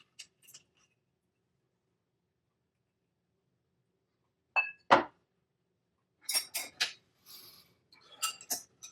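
Rye whiskey and vermouth cocktail being stirred to chill, heard as a few sharp glassy clinks and rattles of ice and spoon against a mixing glass, arriving in short clusters between stretches of near silence.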